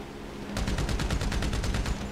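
Rapid automatic gunfire in Grand Theft Auto V erupts after a brief quiet moment, a fast rattling burst of evenly spaced loud shots lasting well over a second with no talking over it.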